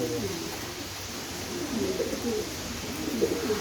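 A pet pigeon coos softly and repeatedly, a low murmuring call close by against a quiet background.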